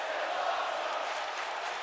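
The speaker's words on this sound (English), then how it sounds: "We have a "This is awesome" chant going" A wrestling crowd chants steadily in WWE 2K19, a dense, even roar of many voices that continues without a break, heard in the distance behind the arena.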